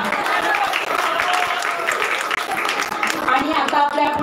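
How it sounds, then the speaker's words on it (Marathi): An audience at a Konkani naman puja programme in Kotwade Kumbharwadi breaks into a burst of steady, crowded clapping that runs throughout, with a voice talking over the applause. "बाकीच्यांनी सगळ्यांनी टाळ्या वाजवाव्या जोरदार"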